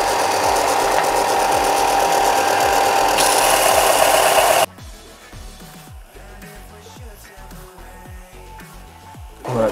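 Ryobi RBDS4601G stationary sander grinding a workpiece at a 45-degree angle: a loud, steady abrasive whir for several seconds that abruptly cuts off, followed by quieter rhythmic mechanical knocking as the machine winds down.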